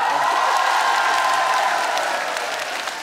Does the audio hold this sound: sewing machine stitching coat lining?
no